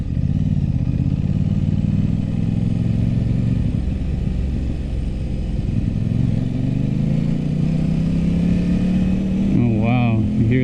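An Aprilia RS 660 motorcycle engine pulls hard in first gear, a loud, close drone with its pitch climbing steadily across the run, wind noise over it, and a shift near the end.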